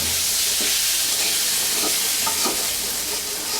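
Sweet pumpkin pieces with nigella seeds being fried in a pan until slightly charred, a steady loud sizzle and hiss with occasional stirring scrapes, no voices.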